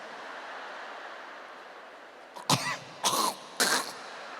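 A voice imitates three harsh coughs in quick succession, close and loud, after a soft breathy hiss.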